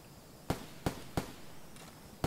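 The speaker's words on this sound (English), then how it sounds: "Not too sure what these guys are shooting at if we're alone." Distant gunshots in the video game Escape from Tarkov, five sharp cracks at uneven intervals, faint and far off over a low steady background.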